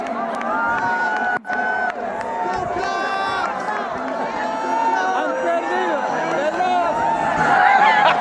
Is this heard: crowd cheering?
yes